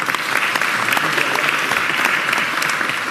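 Dense, loud audience applause for the mayor at a public announcement, continuous clapping filling the whole stretch without pause.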